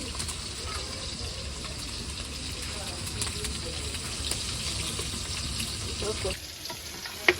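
Leafy greens sizzle steadily in a hot pan on a home stove, a continuous moderate hiss with occasional clinks and faint background voices.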